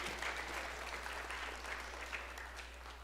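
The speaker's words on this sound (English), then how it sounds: "give a round of applause for your parents and friends being here." Parents and friends applaud at a sixth grade honor band concert, dense continuous clapping filling the hall with a low steady hum underneath.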